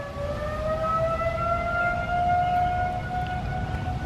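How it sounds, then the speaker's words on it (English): Wailing outdoor warning sirens, several tones slowly rising together, sustained and fairly distant with a steady hum of background noise. "Can you hear those sirens?"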